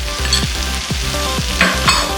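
Ground chilli, coriander, turmeric, pepper and garam masala powders stir-fried in a pan for Kerala-style beef roast, with a steady close sizzle and repeated scraping strokes of the spoon, no voices.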